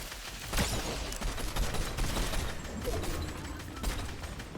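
Video game gunfire: rapid bursts of shots crackling through a busy battle mix, moderately loud with sharp reports around the first and fourth seconds.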